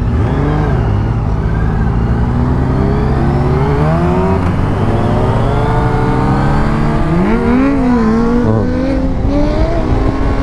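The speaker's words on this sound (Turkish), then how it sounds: "Kendi sesimi duyamıyorum ya motor seslerinden." Several sport motorcycles, including a Hayabusa, ZX10R, R6, MT7 and CBR650F, rev and drone loudly at close range, with engine pitches rising and falling over a constant roar.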